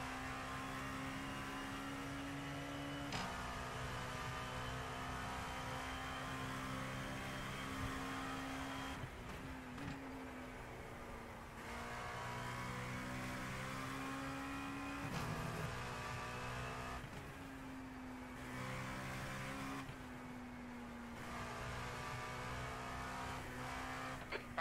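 An LMP2 prototype race car at Le Mans in iRacing holds a steady, loud engine drone that rises and drops sharply at several gear shifts. No voices are heard.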